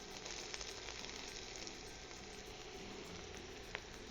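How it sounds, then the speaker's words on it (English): Diced onion sizzles steadily in hot oil in a wok, a dense, even frying hiss that holds for the whole stretch with a couple of faint clicks, no voices. "now that our oil is nice and hot, we're going to go ahead and start dropping our diced onion"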